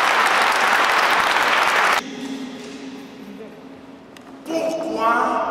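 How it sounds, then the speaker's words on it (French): Congregation gives a burst of applause during a French-language church gathering, loud and dense at first, then cut off abruptly into a quiet murmur with sustained tones before another swell of sound returns. "Est-ce qu'on peut donner des acclamations pour eux?"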